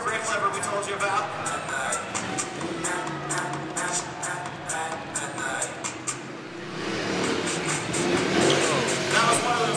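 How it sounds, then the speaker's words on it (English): Ducati freestyle stunt motorcycles perform wheelies at an indoor motorcycle show, with the motor stalling on the rear wheel. Rapid, choppy engine revving comes in bursts, then fades into a rising crowd roar, with a commentator talking throughout. "he's actually completely stalling out the motor while still on the rear wheel"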